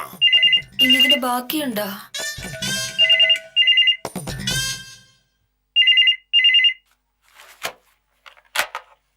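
A mobile phone rings with a bright, repeating electronic ringtone in short paired bursts. The rings alternate with lively conversation in a room, and the phone stops before a quieter stretch of soft noises.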